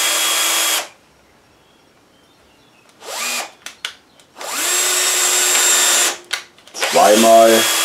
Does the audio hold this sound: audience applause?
no